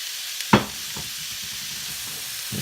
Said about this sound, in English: Then we're going to stir in the tomatoes, as well as the balsamic vinegar,